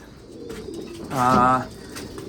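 Racing pigeons in a loft give a single soft, mid-pitched coo over a quiet background, with faint shuffling before and after.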